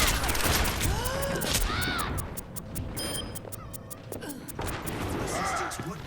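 Ashe's rifle fires in Overwatch amid a busy firefight: a rapid series of sharp, evenly spaced shots with clattering impacts and whooshing effects, loud over steady game noise while voices talk throughout.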